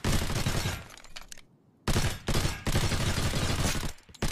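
Gunfire in the video game Lost Light: dense bursts of rapid shots fill the clip, broken by a short silent gap before the firing resumes, loud and close with no voices.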